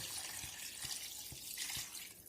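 A litre of water pours out of a mug in a steady splashing stream, with a few soft rhythmic knocks underneath, close and fairly quiet in a home kitchen.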